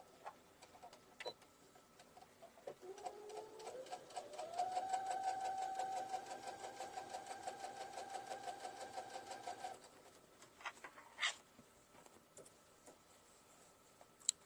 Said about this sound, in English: And just stitch around.